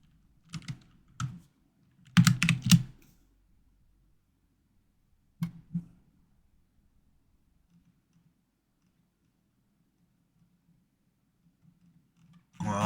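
Bursts of typing on a computer keyboard come in short clusters of clicks, separated by long silent gaps, close and fairly crisp, with no talking.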